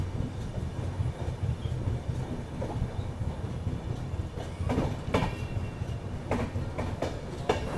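Poorva Express train pulling out of a station on its Howrah to New Delhi run, a steady low rumble of moving carriages with scattered wheel clicks and rattles growing toward the end, no voices.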